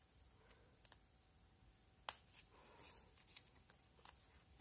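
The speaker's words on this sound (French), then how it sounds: "avec mes ciseaux, je vais venir couper dans la diagonale" Scissors snipping diagonally across paper corners while making a pop-up album, a few faint, sharp clicks and short crisp cuts spaced apart in a quiet room, with one louder snip in the middle.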